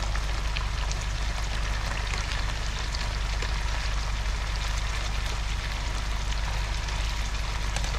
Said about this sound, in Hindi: 4 से 5 मिनट लगेंगे इसको फ्राई होने में